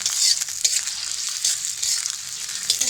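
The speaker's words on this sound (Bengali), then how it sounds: "পেঁয়াজটাকে ভালোভাবে ভেজে নেব।" Bay leaf and chopped onion fry in hot soybean oil for a chicken curry, a steady close sizzle with the scrape of stirring, and no one speaking.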